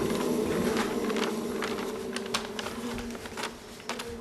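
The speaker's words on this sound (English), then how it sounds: "What's a honeybee doing in my office?" A honeybee indoors in an office gives a steady, close, droning buzz that holds throughout, with a few sharp clicks and taps over it.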